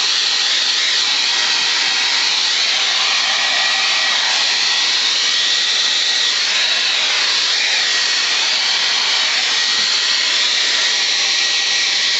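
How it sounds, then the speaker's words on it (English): Hair dryer blowing on a crankbait to heat set it, a loud continuous whooshing fan roar with a steady motor whine that runs unbroken for about twelve seconds, no voices. "Take our hair dryer."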